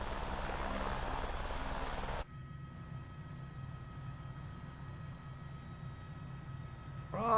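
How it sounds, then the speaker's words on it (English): Helicopter rotor and engine noise from a flight simulator game, a loud broadband roar for about two seconds that cuts off abruptly, leaving a lower steady engine hum with a swell at the end. "So that's SimFX doing the propeller wash effects there."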